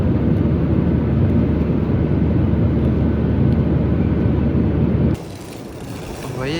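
An airplane passes with a loud, continuous low roar of engine noise outdoors in Tianjin, cutting off abruptly near the end into quieter street ambience.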